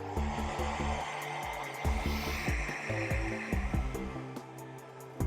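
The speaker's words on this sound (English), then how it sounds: "I am going to hit him with the hairdryer" A hairdryer blows steadily on a freshly painted Battletech miniature, a continuous close whooshing hum with faint clicks and bumps of handling throughout.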